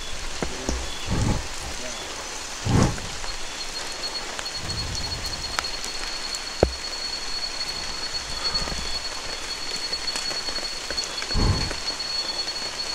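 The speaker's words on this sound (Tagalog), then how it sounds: "Grabe, umuulan pa rin, guys." Steady heavy rain pours on a surface throughout, with a few brief low thumps and a sharp tap standing out over the constant wash.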